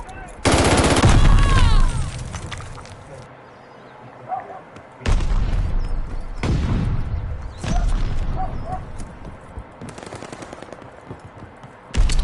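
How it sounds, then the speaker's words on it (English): A sticky bomb grenade detonates in Call of Duty amid heavy game gunfire, with loud, booming bursts and rattling automatic fire in several close, intense waves. "Throwing a sticky bomb!"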